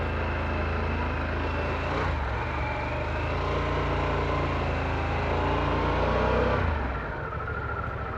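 A Harley-Davidson CVO Pan America adventure motorcycle ridden hard in sport mode gives a steady, full engine drone mixed with wind rush, swelling slightly before easing off near the end.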